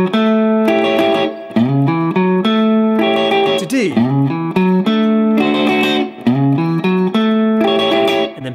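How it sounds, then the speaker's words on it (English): Electric guitar riff, John's part starting on A, played alone as a bright, close, steady run of repeated notes with quick slides between positions on the low strings. "John's riff is gonna look and sound like this, starting with A"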